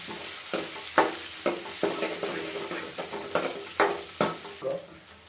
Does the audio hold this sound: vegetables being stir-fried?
yes